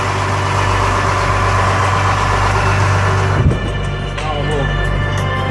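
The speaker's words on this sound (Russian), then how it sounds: "проверяет двигатель" A steady engine idles close by with a low, even rumble, then a brief knock or clunk interrupts it midway before the drone carries on.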